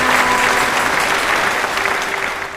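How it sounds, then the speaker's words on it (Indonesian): A fourth-grade classroom of children clapping together, dense and loud from the start, easing off slightly toward the end with a faint tone running underneath. "Oke, tepuk tangan buat kalian semua."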